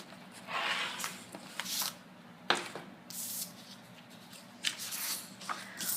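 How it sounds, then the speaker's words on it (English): Paper sheets are pulled out of a ring-bound Happy Planner, giving soft rustles and crinkles in irregular bursts, one sharper snap midway, close and quiet. "now let's take my paper out of my planner"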